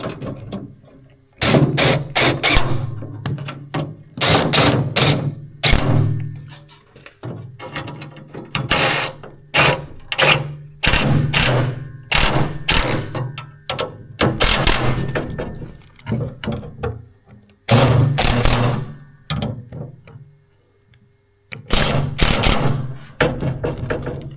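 Bolts are tightened on a Scania 143H V8 truck with a power tool, giving loud, close bursts of ratcheting mechanical rattling separated by short pauses, with no talk.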